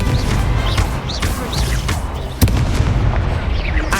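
The Incendio fire spell cast in Hogwarts Legacy, a booming, rumbling burst with crackling and whooshing texture amid dense combat noise, with one sharp crack near the middle.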